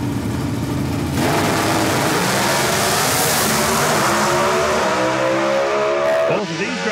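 Drag race cars thunder at the starting line of an NHRA national event in New England, a continuous loud roar of engines with rising harmonic whine as they build up and launch, dropping off abruptly at the end.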